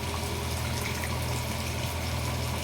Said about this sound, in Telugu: ఈ గ్లాస్తోనే కొలిచి నీళ్లు పోస్తాను